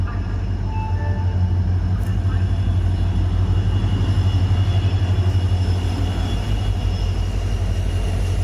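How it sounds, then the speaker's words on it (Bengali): A train pulls into a station platform, a loud continuous low rumble of rolling wheels and heavy machinery that holds steady throughout, with station ambience around it. "ট্রেন এখন এই ঢুকলো"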